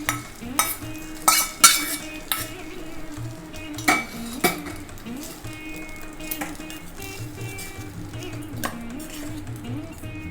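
Tempering of mustard seeds, curry leaves and asafoetida being stirred into sesame rice, a spoon scraping and clinking against the pot in a few sharp knocks, then quieter scraping over faint sizzling, close by with no talk.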